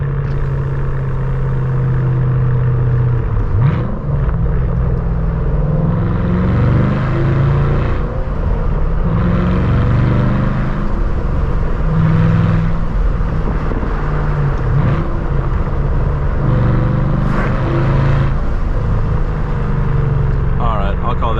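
A 2014 SVT Shelby GT500 Mustang engine drones steadily through open windows while driving, a continuous low rumble with road and wind noise, rising and easing slightly without pause.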